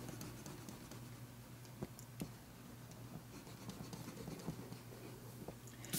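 A pencil draws on paper while sketching oranges in a bowl. The faint, dry scratching strokes come in quick repeated bursts, with a few sharper ticks, and are heard alone at close range.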